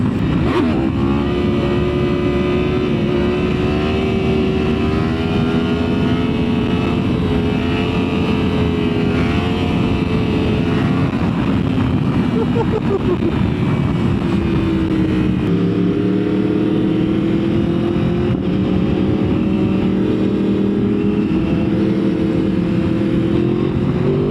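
A 2024 Yamaha R1M with a raw exhaust roars steadily while being ridden on a cold night, its loud, close engine note rising and falling with throttle and dropping at a gear change.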